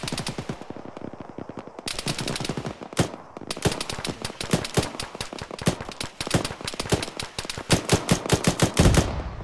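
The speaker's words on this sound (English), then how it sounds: "We got a contact uphill shooting at us." Enemy gunfire in the military shooter ArmA rattles almost continuously in fast automatic bursts, punctuated by louder single cracks, near and loud throughout.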